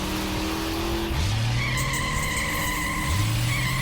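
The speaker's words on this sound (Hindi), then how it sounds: "वो गाड़ी कब से गोल गोल घूम रही है।" A car spins round in circles with its tires skidding, loud sweeping squeals rising and sliding over a constant engine drone, repeating twice in quick succession.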